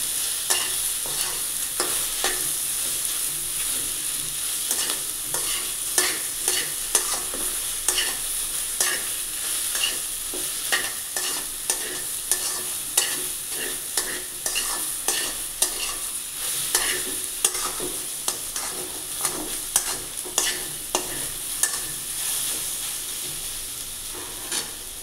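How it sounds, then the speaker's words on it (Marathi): Okra is stir-fried over a medium gas flame, a steady close sizzle with regular rhythmic scrapes and taps of a spatula against the pan, sustained throughout without speech. "भेंडी चांगली आपण यालाही परतवून घ्यायची, मीडियम गॅस ठेवायचा"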